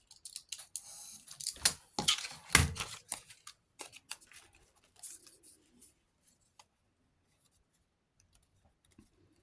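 Scissors snipping paper for a handmade craft project, a few crisp close cuts and rustles in the first seconds, then trailing off into faint scattered ticks and near silence.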